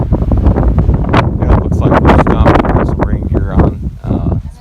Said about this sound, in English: Pretty windy so far.